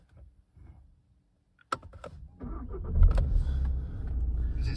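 Car with its ignition switched on: quiet clicks and a brief electrical buzz, then a low rumbling hum with small mechanical whirs and clunks nearby.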